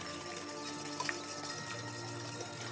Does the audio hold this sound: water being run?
yes